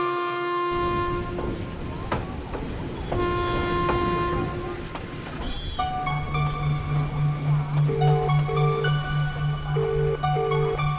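A train at a railway station sounds long, loud horn blasts over rumbling, clattering wheels, with repeated tonal horn notes and steady rolling noise close by, no clear talk.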